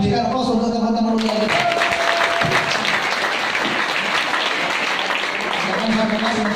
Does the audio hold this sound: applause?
yes